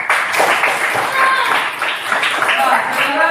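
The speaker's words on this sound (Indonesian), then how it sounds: "tepuk tangan untuk kita semua" A classroom group claps in applause after students present their discussion results, a steady dense patter of many hands lasting several seconds at moderate loudness.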